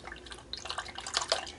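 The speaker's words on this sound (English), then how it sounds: "Let me wash this brush off real quick." A miniature painting brush rinsed in a small cup of water, quick faint splashes and drips that come in short bursts, close and quiet, with no talking.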